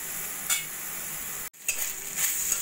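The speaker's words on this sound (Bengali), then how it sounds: "চিকেন এইভাবে একদম লো ফ্লেমে একটু আমি ভাজা ভাজা করে নেব" Chicken pieces fry on a low flame in a pan with a soft, steady sizzle, a couple of spatula scrapes and a short cut of silence partway through, close and fairly quiet.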